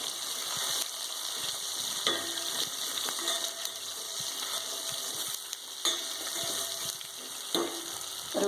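Onions frying in oil in a pan for a potato poriyal, giving a steady soft sizzle with occasional faint clinks and pops, no voices.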